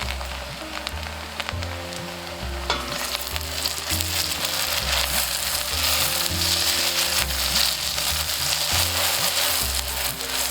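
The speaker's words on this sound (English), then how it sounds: "now I'm going to add the tomatoes, the 1 tomato" A chopped tomato goes into a pan of frying onions and green chili, and the loud, steady sizzle swells as it lands, with background music playing underneath throughout.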